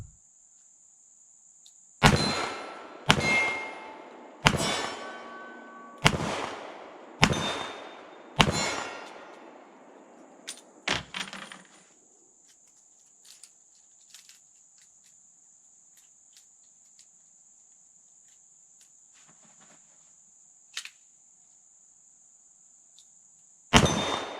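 A Colt Python .357 Magnum with a 4.25-inch barrel is fired at a steel target about 15 yards off, giving six sharp shots with ringing clangs about a second apart, then quiet with faint insects and one more shot at the end.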